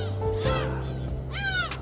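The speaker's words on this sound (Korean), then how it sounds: "갈매기들이 아주 많이 다니고 있습니다" Seagulls calling over the Gyeongin Ara Waterway near the Jeongseojin gateway, a few sharp squawks over steady outdoor rumble and wind, moderately near.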